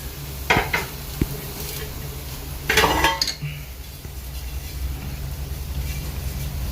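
A lid is set down on a cooking pan over a low flame: a few light metallic taps, then a louder clattering rattle as it settles, over a soft steady kitchen hiss.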